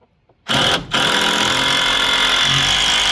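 A power drill drives screws into a chicken coop, starting abruptly after near silence, stopping briefly, then resuming as a steady, close whirring drone until the end.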